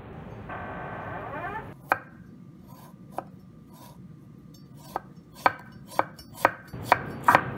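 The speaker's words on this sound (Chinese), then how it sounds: "看，洗完的黄瓜就得这么切。" A knife slices a washed cucumber on a cutting board, giving crisp separate taps that start sparse and then quicken into a steady run of close, clear cuts against a quiet background.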